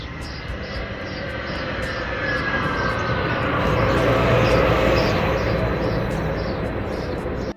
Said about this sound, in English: This is my first time traveling in this light rail system of Utah.